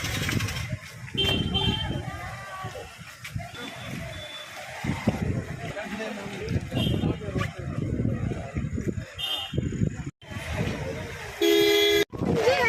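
Several car horns honk repeatedly over a steady rumble of road traffic, with voices talking nearby.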